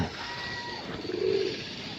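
A single soft pigeon coo rises briefly in a loft housing Punjabi Malwai pigeons, set against a steady low background hum.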